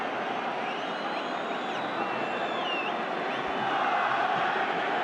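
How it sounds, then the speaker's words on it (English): A large stadium crowd of about 70,000 at the Real Madrid vs Barcelona Clasico, the Spanish Super Cup final played far from Spain, murmurs and roars as a steady distant wash with faint whistles on top. "it's a pretty good crowd, as you'd expect for a meeting like this"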